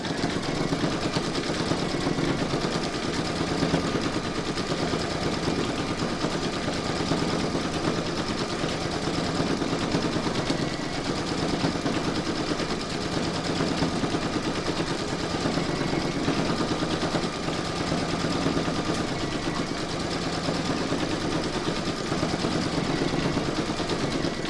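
An in-the-hoop embroidery machine stitches the eye patches of a large sloth applique, giving a continuous, even mechanical whir that stays steady and moderately loud without pause.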